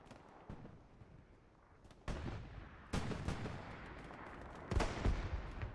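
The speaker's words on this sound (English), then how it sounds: "P4 is just shelling and suppressing area near Dugout." Artillery shelling in the World War II shooter Hell Let Loose: several heavy booming impacts land at irregular intervals, each with a rumbling tail, over a low battlefield background.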